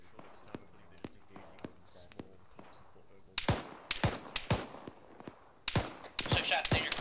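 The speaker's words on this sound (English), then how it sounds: "Still hearing shots out to the west." Gunshots ring out from the west, starting as faint, evenly spaced distant cracks, then louder sharp bursts and rapid strings of fire, with brief voices between.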